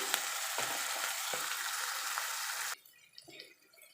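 Fenugreek leaves frying in a pan for chicken curry give off a loud, steady, close sizzle for nearly three seconds, then it drops suddenly to quiet faint clinks and a low hiss.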